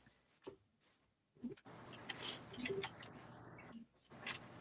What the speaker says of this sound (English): I think I can hear the finches louder than me in the echo